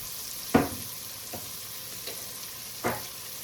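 Celery and onions sauté in a pan for low-carb sausage stuffing, giving a faint steady sizzle broken by a few sharp stirring scrapes.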